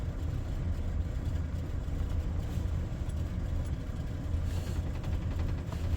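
A budget farm service truck engine idles steadily, a close low rumble with an even throb that holds for the whole stretch, no voices over it.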